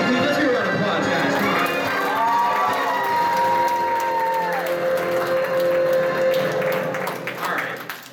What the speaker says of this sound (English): let's give a round of applause, guys